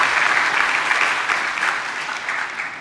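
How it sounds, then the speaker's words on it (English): A crowd at a web security conference claps for the organizers, a full even burst of applause from many hands that swells briefly and then slowly tapers off. "Big round of applause for the organizers."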